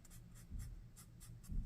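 Chisel-nib alcohol marker scratching across paper in a few short, soft strokes, close and fairly quiet with faint low handling noise underneath.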